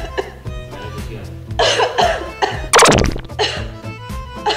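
A man coughs repeatedly in a comedic husband-and-wife skit, with several harsh, loud, close bursts spread across the moment over low background sound.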